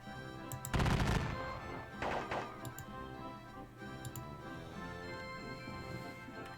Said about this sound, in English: Exchanging gunfire with them.